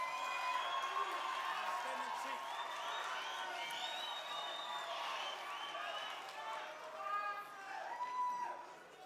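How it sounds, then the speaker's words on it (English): A large audience at a G20 event applauds and cheers as a minister is welcomed to the podium, a continuous wash of clapping with scattered whoops and voices rising above it throughout. "A round of applause as we welcome Minister Gayton McKenzie for the vote of thanks."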